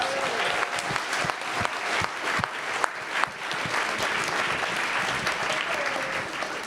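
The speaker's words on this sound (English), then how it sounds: "Give him another round of applause, please." An audience at a public library event featuring Dennis Rodman gives a steady round of applause, dense and continuous clapping heard at a moderate distance with a few faint voices mixed in.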